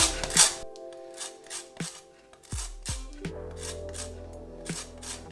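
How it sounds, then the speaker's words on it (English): Lime skin is grated for an avocado dressing in a series of short, scratchy rasping strokes, close and fairly quiet, over a faint background tonal hum. "I'm gonna grate in a little bit of lime skin"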